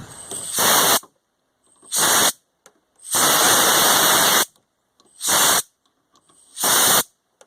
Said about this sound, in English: here's just some compressed air from the compressor